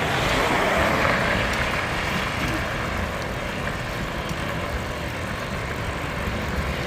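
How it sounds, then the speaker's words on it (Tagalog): Busy street traffic with many vehicles passing on a Holy Saturday drive, a steady dense rumble of engines and road noise, close and fairly loud throughout without clear individual pass-bys. "Daming sasakyan."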